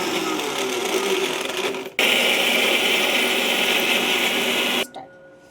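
A mixer grinder grinding a poha mixture finely, a loud steady whirring motor that stops briefly, restarts at full power for about three seconds, then cuts off.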